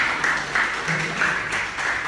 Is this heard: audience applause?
yes